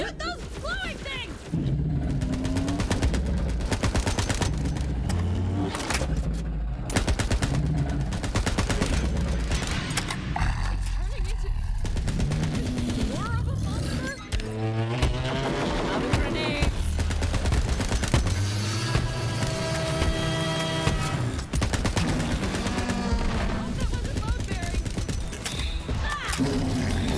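Rapid video-game gunfire from Borderlands 3, dense bursts and booms layered with music and effects throughout, with a player shouting over the shooting.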